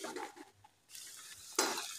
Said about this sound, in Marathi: आता आपण त्यांना तेलामध्ये छान तळून घेऊया।